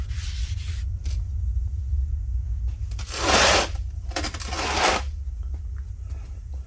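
Honing valve guides with honing oil, setting up a broad rasping, scrubbing texture in a few strokes of about a second each. The grinding is close and moderately loud over a steady low hum, with the strongest passes in the middle of the clip.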